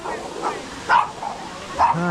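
A dog barks outdoors near a waterfall on a hiking trail, giving two short, fairly loud yips about a second apart over steady rushing water.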